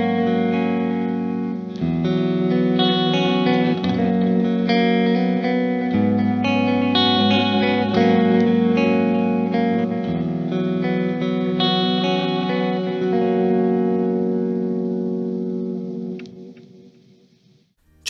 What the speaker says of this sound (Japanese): レプリケーターはカセット式のコンパクトなテープを使用するんですけど、サウンドはかなり太くてアナログ感たっぷりになってます。